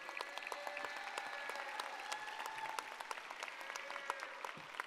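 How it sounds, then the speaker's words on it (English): Steady, dense applause from a large crowd at a high school graduation, honoring the top ten graduating students; the clapping is even and continuous throughout, fairly distant, with faint murmurs beneath it. "If you can give them a round of applause,"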